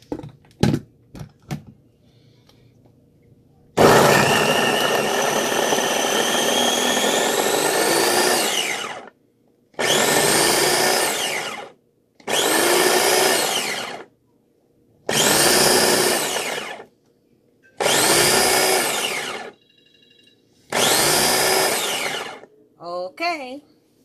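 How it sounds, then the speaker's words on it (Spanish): A kitchen blender whirs through cubed peeled raw ginger, first in one long run and then in five shorter bursts with pauses between, loud and close, after a few clicks at the start. "Y esto lo vamos a licuar."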